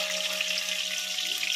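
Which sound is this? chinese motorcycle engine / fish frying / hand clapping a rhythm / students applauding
fish frying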